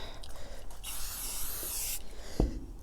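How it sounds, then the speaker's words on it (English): Scotch Guard aerosol is sprayed onto a Louis Vuitton bag's Vachetta leather in a single sustained hiss of about a second, followed by a quiet pause and a short knock near the end. "let me finish spraying with the Scotch Guard"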